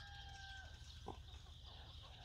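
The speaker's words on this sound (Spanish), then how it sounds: "estas gallinas y el gallo que andan por estas calles." Hens and a rooster wandering a town street, a faint cluck heard briefly in the distance over steady low outdoor rumble and background hum.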